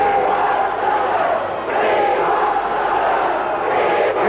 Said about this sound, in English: In unison, this capacity crowd, we want Stuka. We want Stuka.